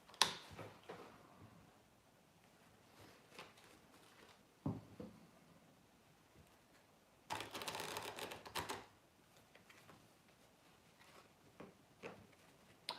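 Tarot cards being shuffled by hand, heard as quiet scattered ticks and brief riffling bursts, with a louder, longer flurry of card noise in the middle against a hushed background.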